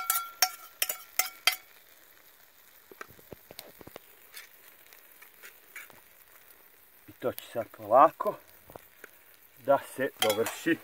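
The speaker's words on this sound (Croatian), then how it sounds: "Čujete kako sve lepo krčka." Stuffed peppers with bacon and kashkaval, sausages and eggs fry on a hot tanjirača disc, with faint sizzling under scattered clinks and scraping stirs, someone speaking briefly, and louder sputtering bursts near the end.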